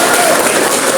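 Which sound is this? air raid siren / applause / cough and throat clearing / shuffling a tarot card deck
applause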